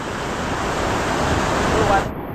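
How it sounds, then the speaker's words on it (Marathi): A sea wave breaks on a Konkan shore during fishing, heard as a loud, close, steady rush of surf and wind noise that fades slightly at the end. "बघ केवढा लाट आला"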